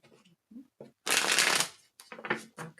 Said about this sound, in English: Think about your question while I'm shuffling.